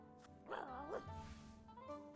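A dog in the video game Inkulinati gives a warbling, whiny bark-like yip followed by softer wavering tones over a quiet musical background, fairly faint overall.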